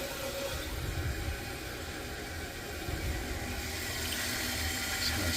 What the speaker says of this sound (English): And let's turn on a little bit more water.